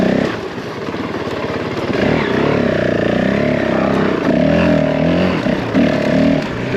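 A Honda CRF450L enduro motorcycle rides in second gear at a quarry, its engine droning loud and close. The steady revving rises and dips slightly as the bike moves over the terrain.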